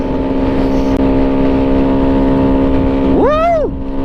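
Honda Grom motorcycle on a highway, its engine holding a steady loud drone with wind rush, then a brief sharp rise in pitch near the end as it revs up.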